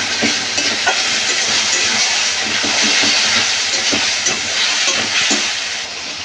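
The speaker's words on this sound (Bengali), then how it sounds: "পেস্ট করা পেঁয়াজ আর আদা দিয়ে ভালো করে কষিয়ে নেব" Onion and ginger paste frying in a pan for a katla fish kalia, a steady loud hiss and sizzle with scattered crackles and pops throughout, no voices.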